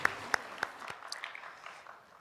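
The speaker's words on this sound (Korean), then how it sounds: "하나님께 영광의 박수를 올려드리겠습니다." A few sharp, loud individual claps open a short burst of scattered applause at a church worship service in Daegu, thinning out and fading within about two seconds.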